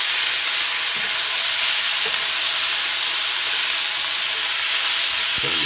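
A Mexican dish with jalapenos sizzles in a pan while being stirred, a dense, loud, unbroken frying hiss with a few faint knocks underneath.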